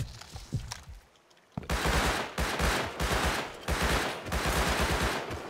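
Rapid gunfire in the survival video game Rust, a quiet opening shot or two followed by loud, dense automatic bursts firing almost continuously at close range, with no talking over it.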